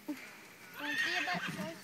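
A horse whinnies loudly and shakily for over a second, with a brief thump before it and faint voices in the background.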